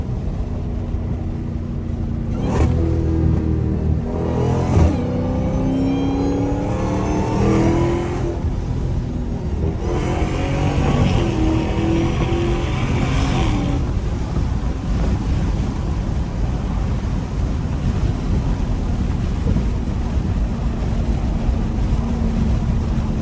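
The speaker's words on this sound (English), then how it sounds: "Let me know what else I can do to make my supercharger whine louder." Straight-piped supercharged Dodge Hellcat, heard from inside the car: a loud, steady engine roar with wind rush throughout and rising whine sweeps in the first half, no talk.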